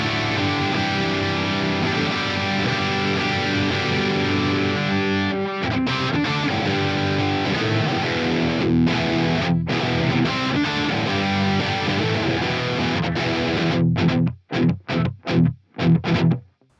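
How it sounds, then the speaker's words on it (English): Heavily distorted electric guitar, a modified Stratocaster on its bridge humbucker, with a bright, aggressive tone plays sustained chugging riffs, ending in sharp staccato stops and short bursts. "We are on the bridge position just to see what the bridge humbucker sounds like."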